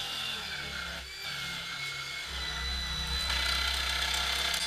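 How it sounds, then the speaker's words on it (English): A jigsaw cuts through a wooden sign with a continuous buzzing rasp, briefly dipping before resuming and growing slightly louder toward the end, heard close up. "The jigsaw is one of my least favorite tools, but this sign is just a little bit too big to throw up on the bandsaw."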